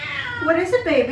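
A pet cat meows several times in quick succession, close by, with someone speaking softly over and between the calls in a home kitchen.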